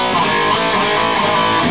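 A distorted electric guitar chugs through a tight, palm-muted riff, dense and steady, played alone at close range with no talking.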